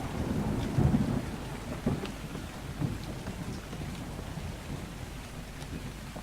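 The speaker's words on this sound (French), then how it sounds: "quand il fait orage, dans Ark, il fait orage." A thunderstorm in the video game ARK: steady rain patters on surfaces while low rolling thunder rumbles swell and fade several times, with no talking over it.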